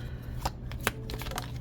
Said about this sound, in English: And I'm still shuffling another card.